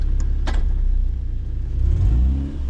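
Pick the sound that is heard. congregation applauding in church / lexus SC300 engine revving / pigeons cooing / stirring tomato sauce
lexus SC300 engine revving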